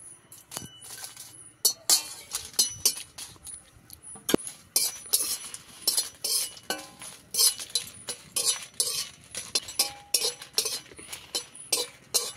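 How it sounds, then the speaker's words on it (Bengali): Dry red chillies are roasted without oil in an earthen pan over a lit stove, giving quiet, irregular clinks, rattles and crackles that come in scattered bursts, with no talk. "এবার শুকনো লঙ্কাটা কাঠখোলায় ভেজে নেব তেল ছাড়া।"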